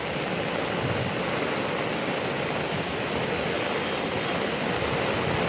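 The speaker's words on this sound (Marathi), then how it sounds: "पाऊस पण जोरात आहे." Heavy rain driven by strong wind makes a dense, unbroken rushing wash, loud and close throughout with no voices heard.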